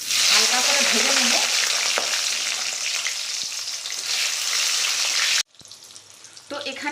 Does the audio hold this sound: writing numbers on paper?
no